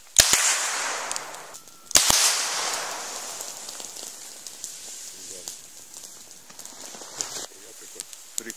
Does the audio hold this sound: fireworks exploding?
yes